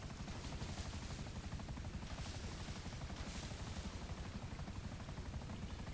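A helicopter in Grand Theft Auto V hovers near water, its rotor making a continuous, loud, dense chopping roar that stays steady throughout.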